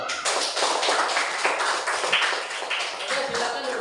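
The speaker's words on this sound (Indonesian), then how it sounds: "Oke, tepuk tangan dulu." A classroom of students clapping their hands together, a dense, loud patter of many overlapping claps that carries on steadily throughout, with some voices mixed in.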